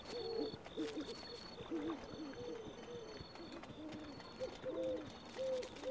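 Bird hooting from a tree in the Zelda: Breath of the Wild video game, a soft repeated owl-like cooing call sounding every second or so over faint ambient game music.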